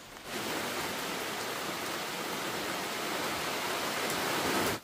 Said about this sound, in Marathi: आणि बाहेर पाऊस पडतोय.